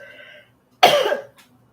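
A single harsh cough from a person sick with Covid, loud and close, lasting under half a second, followed by a faint breath and quiet, with no talk.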